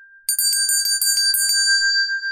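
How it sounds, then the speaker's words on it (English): A shop door bell jingles with a rapid series of bright metallic strikes, then rings on and fades, loud and alone with no talk. "The store's bell jingled as 3 young men walked inside."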